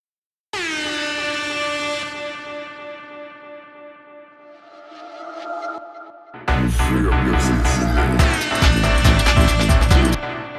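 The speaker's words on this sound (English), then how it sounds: "The air horn has this multi-band compressor in Serum effects, so similar to OTT, plus reverb, followed by an echo" Processed air horn sample run through multi-band compression, reverb and echo: a long sustained tonal blast that decays slowly, then a louder, denser burst of layered horn hits with a dense music beat underneath.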